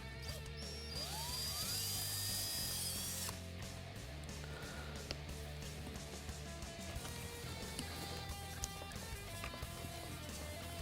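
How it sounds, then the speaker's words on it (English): A power drill bores a quarter-inch hole in the bumper of a 2015-2017 Mustang GT, a loud high whine for about three seconds, then a lower rumbling stretch with scattered clicks and knocks. "Now we're going to drill a 1/4 inch hole in here to relocate the harness."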